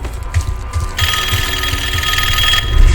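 A telephone rings inside a Call of Duty Black Ops 6 zombies level, a steady bright trilling bell that starts abruptly and carries on over a low rumbling game background, fairly loud and with no talk.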